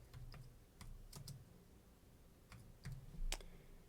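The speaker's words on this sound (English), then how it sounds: "we're going to type in sudo su" Short bursts of keystrokes on a computer keyboard enter a command, a few quiet clicky taps spaced irregularly over a few seconds in a hushed room.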